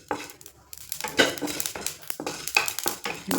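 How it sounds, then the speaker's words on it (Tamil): A spoon scrapes and taps around a pan as chili powder dry-roasts for a chicken dish, with a series of close metallic clinks and rustles in an irregular rhythm and no voices. "நல்லா செவக்க வறுத்தாச்சு"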